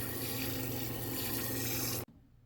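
Tap water runs steadily into a sink as a plate gets washed, a close, even rush that stops abruptly near the end and leaves only faint room noise.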